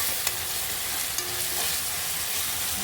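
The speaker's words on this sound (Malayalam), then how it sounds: "അങ്ങനെ നമ്മുടെ ബിരിയാണിക്കുള്ള ഉള്ളി വഴറ്റിക്കൊണ്ടിരിക്കുകയാണ്." Onions with a pinch of salt stirred in hot oil for biryani give a steady, close sizzle. A few soft scrapes of the spoon come through, and nobody speaks.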